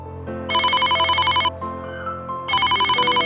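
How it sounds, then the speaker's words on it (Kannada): A mobile phone ringtone plays nearby in loud, repeating melodic bursts with a short pause between rings and no voices. "ಅಮ್ಮನ ಫೋನು ರಿಂಗ್ ಆಗ್ತದೆ"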